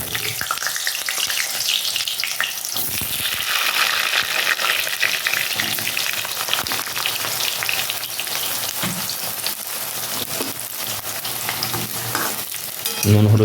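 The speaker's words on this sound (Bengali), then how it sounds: "পটলগুলো ভেজে নেব" Pointed gourd (potol) fries in mustard oil with a loud, continuous crackling sizzle, broken by occasional stirring scrapes and faint watery sounds, louder again at the very end.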